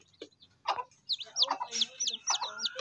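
Newly hatched chicks, one of a clutch of thirteen, peep in short high chirps that repeat quickly over a faint murmur of nearby activity, fairly quiet and close.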